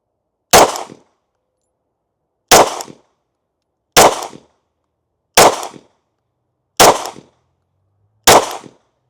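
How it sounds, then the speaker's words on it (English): Six sharp pistol shots from a ported CZ P10c fired at a target 10 yards away, loud and close, spaced evenly about one to two seconds apart with short decays and silence between. "I took 6 shots instead of 5"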